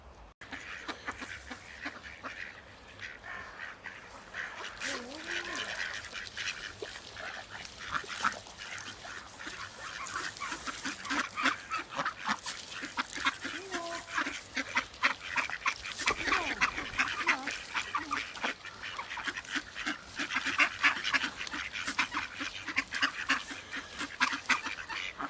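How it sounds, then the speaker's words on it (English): Ducks by a river quack and honk in repeated bursts, some close and some farther off, with intermittent rustling and handling noise throughout. "we've got a couple of quackers here with a friend of ours"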